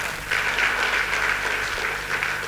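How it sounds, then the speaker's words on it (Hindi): Sustained audience applause fills a hall at a motivational leadership seminar on success. Loud, dense clapping from a large crowd swells in after a brief quiet start and carries steadily to the end. "तो मैं चाहूंगा एक बार सिस्टम के लिए बहुत जोरदार तालियां"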